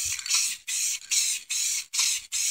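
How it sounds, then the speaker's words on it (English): Spray paint hissing onto a drinking glass in about six quick bursts, each a sharp, close hiss with brief gaps in between, as the can sweeps back and forth. "I'm going to go a few sprays back and forth"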